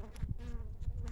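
Honey bees hum and buzz steadily up close, a low droning swarm with small pulses as individual insects fly near.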